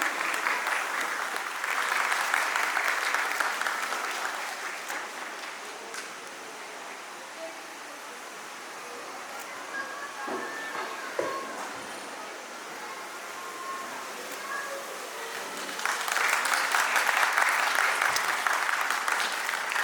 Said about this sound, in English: Give it up a big round of applause, everyone.